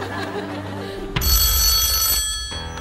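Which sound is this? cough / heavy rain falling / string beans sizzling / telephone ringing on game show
telephone ringing on game show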